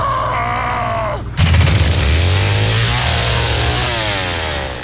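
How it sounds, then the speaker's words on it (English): Replicated chainsaw engine built for The Texas Chain Saw Massacre game, idling briefly before roaring up into a loud, sustained rev with rising and falling pitch, close and alone. "replicate an actual chainsaw engine"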